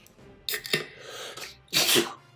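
A sharp, breathy sneeze bursts out close by, preceded by a quick inhale and followed by a second forceful sneeze.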